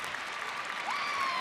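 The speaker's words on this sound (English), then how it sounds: "Let's hear a big round of applause" Audience at a Big Ten gymnastics championship breaks into loud continuous clapping, a thick rattle of hands with a few whistles rising above it near the end.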